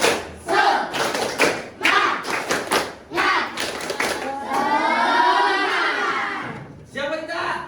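A class of fifth-grade Scout pupils in an Indonesian school performs the rhythmic 'tepuk semangat' spirit clap, with sharp group claps in a patterned beat followed by the children chanting together loudly, close by.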